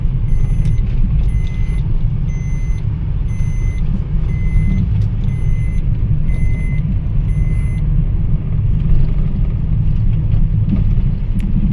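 Maruti Ertiga car driving on a road, heard from inside as a steady low engine and road rumble, while a repeated electronic beeping chimes several times during the first part.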